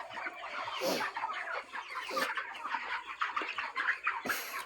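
Chickens on a poultry farm clucking and cackling, a busy overlapping chorus of nearby birds with a few louder squawks standing out above the flock.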